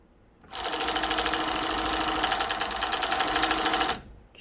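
A Speedway SW-1341VS sewing machine stitches through wool fabric in one steady, loud, continuous run of rapid needle clatter lasting about three and a half seconds, starting and stopping abruptly with no talking.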